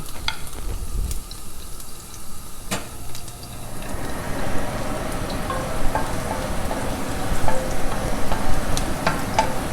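Garlic drops into a hot pan, and after a few scattered clicks and scrapes a dense, steady sizzle of frying takes over and holds close and fairly loud to the end, with no talking.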